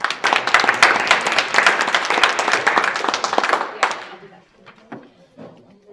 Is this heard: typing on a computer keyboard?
no